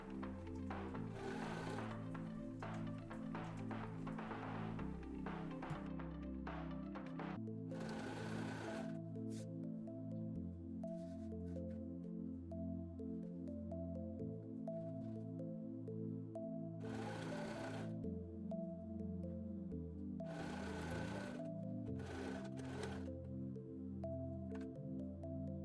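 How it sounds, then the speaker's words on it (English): Sewing machine sewing bias tape onto a medical shower apron, running steadily in a faint, even hum with a few brief louder bursts scattered throughout. "we basically sandwich the material in between the tapes and just sew it over."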